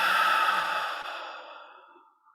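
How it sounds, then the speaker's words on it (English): A slow, deep breath out during a guided yoga breathing exercise, a single long airy exhale heard close up that gradually fades to silence. "Inhale. And exhale."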